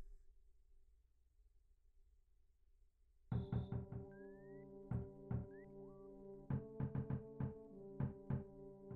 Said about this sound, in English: someone's knocking on our door